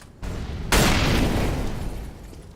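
A grenade detonates in CS:GO with a sudden heavy boom after a brief lead-in, then a long rumbling decay that fades over the following second or two.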